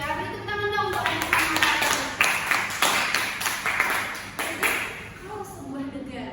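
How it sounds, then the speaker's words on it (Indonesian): Classroom clapping for a student during a teaching practice lesson, a burst of sharp, uneven claps with voices talking over and between them, tapering off toward the end. "beri tepuk tangan dong untuk Ajit"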